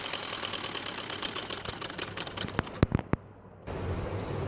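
A sewing machine stitches the side seam of a kurta with a rapid, rattling mechanical whir. It runs steadily up close, breaks into a few separate thumps, pauses briefly, then starts up again.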